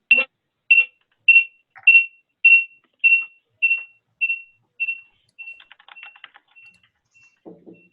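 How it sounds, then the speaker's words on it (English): Mobile phone rings during a video call, a series of about a dozen evenly spaced electronic beeps that slowly fade, followed by faint clicks and handling noise. "I think that's your phone."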